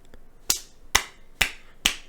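Four sharp hand claps in a quiet indoor room, evenly spaced about half a second apart, each a crisp close-up slap with a short tail, no talking.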